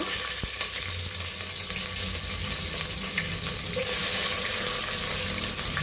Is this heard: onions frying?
yes